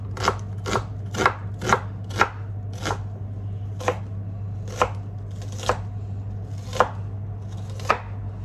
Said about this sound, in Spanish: Sigo cortando.